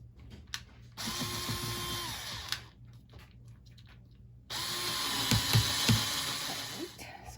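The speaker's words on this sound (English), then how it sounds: "the sawtooth hangers have been drilled in." Small cordless drill whirring in two bursts as it drives sawtooth hangers into a wooden window frame for farmhouse-style decor, each burst with a rising motor whine and a few clicks near the end, separated by a quieter pause.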